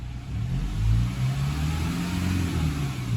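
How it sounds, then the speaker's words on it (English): A cold Toyota 1GD diesel engine idles smoothly and quietly, a steady low rumble close by with a slight swell in the middle and no talking. "Have a listen to the engine. How quiet and smooth is it?"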